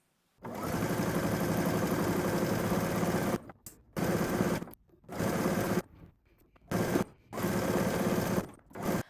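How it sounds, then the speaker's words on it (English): A sewing machine stitches a seam in rapid bursts, one long run followed by several shorter ones separated by brief pauses. "now we're going to head to the sewing machine. We're going to stitch this down"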